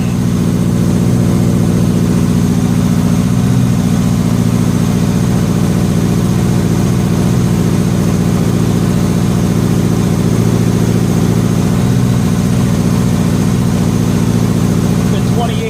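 A 1985 Honda Gold Wing GL1200 Aspencade barn find, revived after sitting 28 years, runs loud and close on all four cylinders with a steady, even idle drone that continues without a break.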